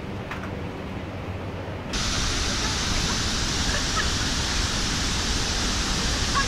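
Iguazu Falls in Argentina thunders at close range, a loud, steady broadband roar of crashing water and spray that swells louder after a quieter opening moment and holds constant with no talking.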